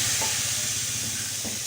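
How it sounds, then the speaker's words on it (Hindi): Hot oil tempering with spices sizzles and hisses loudly and steadily up close, a continuous crackling spatter with no voices. "और अब उठा के तड़का डाल देंगे।"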